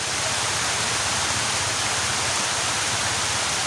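Heavy rain pours steadily at a rural garden plot, a loud, dense, unbroken hiss of falling water filling the whole span with no voices.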